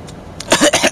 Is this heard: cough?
yes